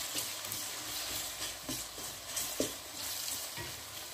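Crushed ginger and garlic fry in a pan alongside onions, a steady soft sizzle with faint scrapes and light stirring knocks at irregular intervals, close and without talk.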